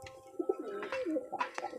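Domestic pigeons coo close by in a series of soft, rounded, throaty calls, a few separate coos rising over a quiet background.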